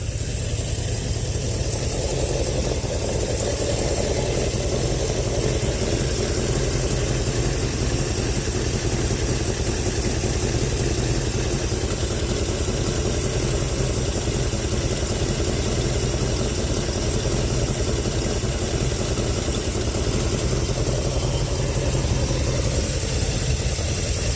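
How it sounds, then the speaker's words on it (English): A 1967 Chevrolet Chevelle with exhaust leaks idles steadily with a rough, raspy rumble and a faint pulsing, running continuously with no voices. "Kind of thinking there might be a couple hundred exhaust leaks."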